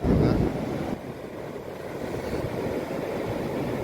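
Small wave washing up a sandy beach during a Narali Purnima visit to the sea at Vetye, a soft low surge early on that fades into steady wind-buffeted surf rumble.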